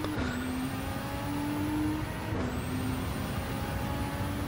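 A race car in Gran Turismo 7 at Le Mans accelerates hard out of a turn, its engine note rising steadily, briefly dipping at a gear change, then climbing again, loud and continuous with no talk.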